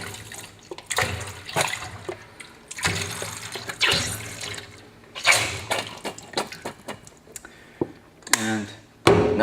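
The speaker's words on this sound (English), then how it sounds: "now we just fill up our sinks" Water pours from a tap into a two-compartment commercial sink with bubble bath soap added, rushing and splashing in uneven surges with some gurgling and background clatter.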